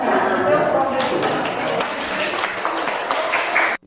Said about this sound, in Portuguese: O vídeo mostra que o prefeito foi até aplaudido.